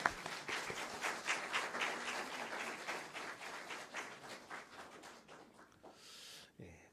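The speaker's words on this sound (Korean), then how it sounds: "우리 사모님께 박수." At a revival meeting in a Korean church in Wando, a congregation gives the visiting pastor's wife a burst of dense applause. It swells close and full, then thins and fades away within a few seconds.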